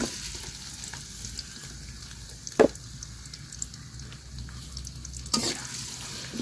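Onion, garlic, cardamom, cinnamon and bay leaf frying in hot oil, a steady close sizzle with a few sharp clatters of stirring, one near the middle and one toward the end, with no talk.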